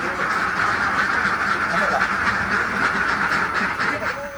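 Ducks on a duck farm in East OKU, Indonesia, including egg-laying Mojosari and Peking ducks, keep up a dense, continuous chorus of quacking. It sounds like a large flock, steady and loud, with a narrator speaking over it.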